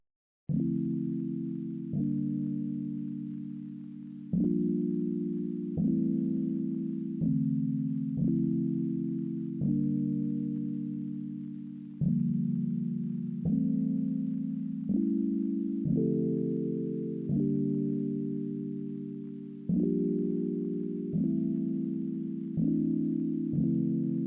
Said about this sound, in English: let me just play the chord progression